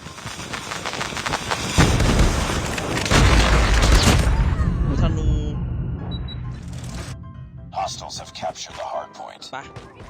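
Heavy booming shots from an SP-R 208 sniper rifle in Call of Duty Mobile, loud single reports with long echoing tails, heard under excited talk in the clip.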